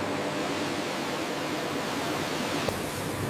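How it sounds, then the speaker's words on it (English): Cascading water washes over banana blossoms on a factory line, a steady, dense broadband rush without pause, close and fairly loud, with a brief knock near the end. "A cascading wash removes remaining impurities."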